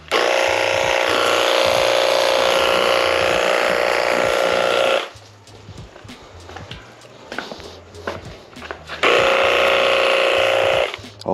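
A cheap portable jet cleaner sprays a motorcycle chain with a loud, steady hiss of water for about five seconds, stops, and then gives a second sustained burst near the end.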